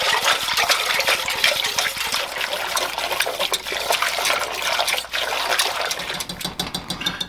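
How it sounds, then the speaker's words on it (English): A whisk scrapes and clinks rapidly against a pot of lemon filling warming over medium heat, a busy metallic patter with wet sloshing that runs continuously without pause. "we're just going to whisk this together over medium heat until it becomes warm and bubbly"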